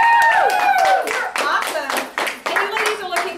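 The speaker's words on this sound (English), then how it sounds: "let's give yourself a big round of applause for being here" Brief applause from a small group of women at an evening Mary Kay meeting, bursts of clapping mixed with whoops and excited voices over a few seconds.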